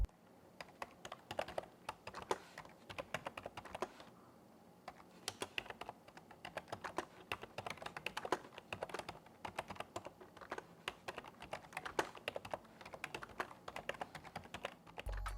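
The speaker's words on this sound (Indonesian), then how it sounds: "berikut ini adalah suara feedback dari keyboard Logitech Signature K650." Continuous typing on a Logitech Signature K650 membrane keyboard: rapid, soft, muted keystrokes in an uneven rhythm, close up, with a short pause near the start.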